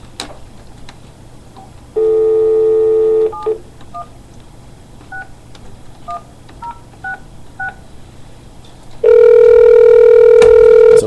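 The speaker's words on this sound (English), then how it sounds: "I'm going to try this phone call one more time." Telephone call being dialed, a steady dial tone followed by a quick run of separate keypad beeps, then a loud sustained tone near the end, all close and clear over a faint hum.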